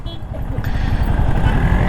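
Royal Enfield Himalayan 450 motorcycle riding on the road from Pune to Mumbai after its first service, a steady loud low engine drone with wind rush, continuous throughout with a faint voice underneath.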